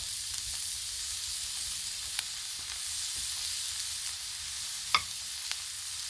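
Thick slices of store-bought ham sizzling on a Blackstone griddle, a steady, quiet frying hiss with a few faint clicks and one sharp tap near the end.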